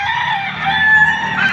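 A gamecock rooster crowing at a rooster sale in Padre Garcia, Batangas, one long sustained crow, loud and close, with no talk over it.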